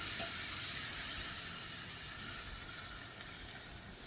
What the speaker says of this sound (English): we're gonna sear both ends